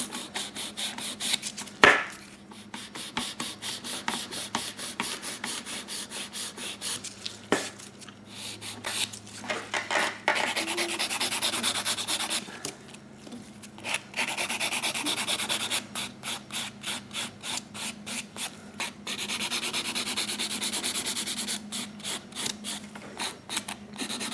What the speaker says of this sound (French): je vais passer maintenant au limage avant de venir faire ma fantaisie de surface